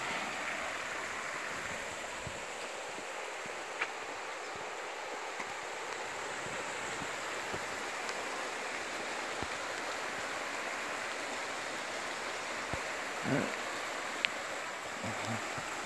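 Creek water flows steadily at Coyote Creek near a natural bridge in Stanislaus County, California, a continuous soft rushing wash with a faint patter of light rain and no talk.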